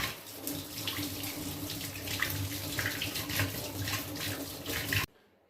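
Tap water runs steadily over a mango held under the faucet, a continuous splashing rush that stops abruptly near the end.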